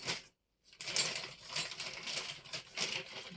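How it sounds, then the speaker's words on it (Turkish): A small metal combination key tool for a STIHL MS 361 chainsaw being picked up from its original box, giving a quick series of light metallic clinks and rustles up close after a brief silence. "Bu şekilde sökebilmek için öncelikle anahtarımızı alacağız."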